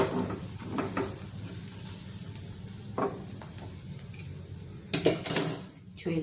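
A spoon stirs a poori mixture in a pan over low heat, giving a soft steady sizzle with a few scraping, clinking strokes and a louder clatter near the end.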